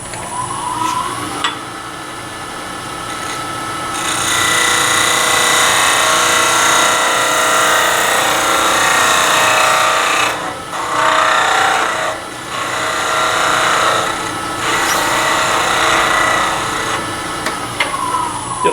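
A skew chisel shears wood on a spinning lathe, the bevel rubbing on the tip, giving a loud steady scraping hiss in long passes broken by short pauses, close up with no talking.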